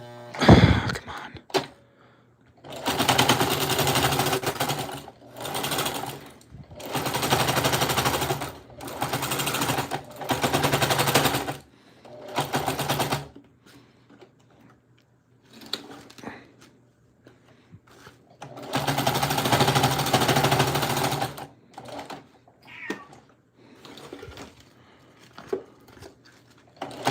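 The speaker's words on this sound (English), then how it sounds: "The needle makes that noise if it doesn't want to go through that many layers." A sewing machine stitching through many thick layers of fabric for ammo pouches runs in several loud, close bursts, with pauses and small handling knocks between runs as the needle labors.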